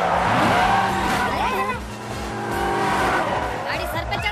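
A car skids with tires squealing loudly and close, with engine roar and whining screeches sweeping across several seconds, easing briefly in the middle before rising again.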